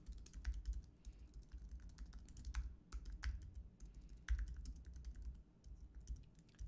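Steady typing on a computer keyboard, a quick run of key clicks with brief pauses, close and moderately loud with no talking.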